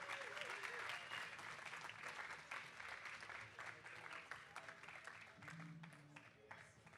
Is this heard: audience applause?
yes